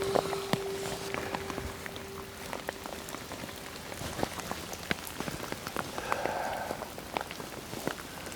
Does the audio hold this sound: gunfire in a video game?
no